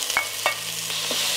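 Sausage fries with onion and garlic in oil in a pot, a steady close sizzle with a few sharp stirring knocks of a utensil against the pot and a faint hum beneath.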